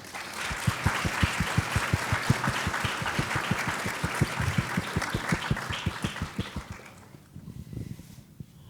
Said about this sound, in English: Graduates, can we give them a round of applause?